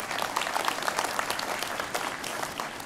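A keynote audience at a NetSuite SuiteWorld conference breaks into applause after an announcement, a brief, full burst of many hands clapping at a steady level.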